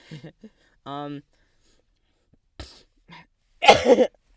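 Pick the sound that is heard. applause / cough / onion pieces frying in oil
cough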